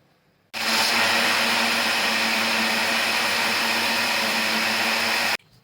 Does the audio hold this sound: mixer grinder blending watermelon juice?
yes